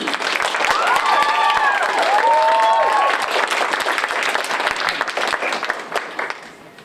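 A high school poetry slam crowd claps and cheers for a poet, a dense, loud wash of hands with shouts and whoops over the first few seconds, then the clapping thins and fades out.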